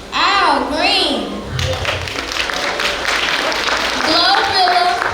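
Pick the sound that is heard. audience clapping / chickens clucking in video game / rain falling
audience clapping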